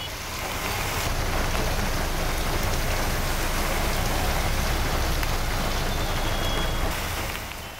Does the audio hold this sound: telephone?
no